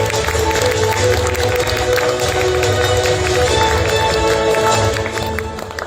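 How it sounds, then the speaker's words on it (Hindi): Sustained applause from an audience at a ceremony honoring the team of the Bodo film Sinkhai, dense and loud throughout, with clapping and crowd noise tapering slightly at the end. "तालियां बजती रहनी चाहिए प्लीज"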